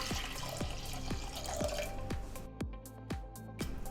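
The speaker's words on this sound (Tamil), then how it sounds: "தண்ணி சேர்த்துக்கலாங்க." Water is poured onto washed toor dal in a kitchen, giving a run of regular drips and splashes, close and fairly quiet, with a trickling pour beneath.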